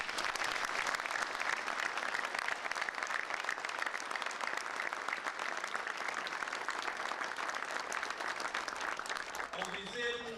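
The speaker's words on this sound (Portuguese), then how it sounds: "eu peço uma grande salva de palmas" Sustained, dense applause from an audience at a tribute ceremony in Carregosa, a loud even clatter of many hands continuing throughout, with a brief voice or sound emerging at the very end.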